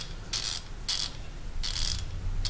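An Icon hand ratchet clicking in bursts of rapid pawl ticks, four crisp runs in quick succession, close and fairly loud with no talking.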